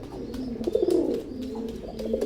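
Teddy pigeons coo softly and continuously in low, rolling tones, with faint clicks and chirps in the background.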